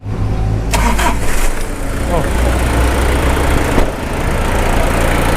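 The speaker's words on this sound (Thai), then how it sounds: "สตาร์ทเครื่องให้ดูก่อน" A Mazda Fighter four-door pickup truck engine cranks and fires up, then settles into a steady, loud, close idle, with someone talking over it.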